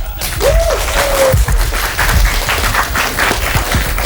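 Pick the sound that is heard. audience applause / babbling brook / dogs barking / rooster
audience applause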